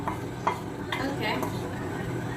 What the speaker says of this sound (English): And now a nice stir to get the color into our bhaji.